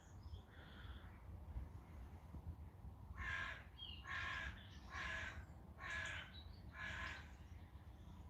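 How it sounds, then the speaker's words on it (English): A crow caws outdoors in a series of five harsh, evenly spaced calls, moderately near, over a steady low rumble of background noise. "We've got the crow singing at us at the moment."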